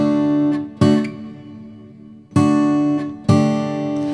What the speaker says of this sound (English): So I've got this acoustic guitar part here.